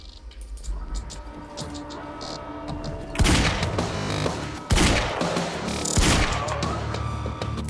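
Repeated gunfire bursts from a Remedy video game, loud and close, with sharp volleys starting around three seconds in and recurring over a steady backdrop of game ambience and music.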